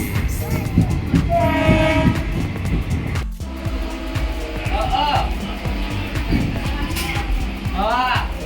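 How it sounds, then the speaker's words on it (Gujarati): A Patan DEMU passenger train rumbles close by with a rhythmic clatter of wheels, a horn blaring intermittently, while people talk nearby. "અમારી ટ્રેન આવી ગઈ છે"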